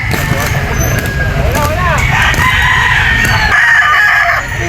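A rooster crows amid busy background noise at a pet market, with people talking nearby and traffic rumbling steadily underneath.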